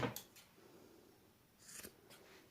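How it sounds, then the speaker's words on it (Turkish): Scissors snip through fabric in a home sewing setting, a few crisp close cuts spaced apart with quiet pauses between them. "Burayı da keseceğim."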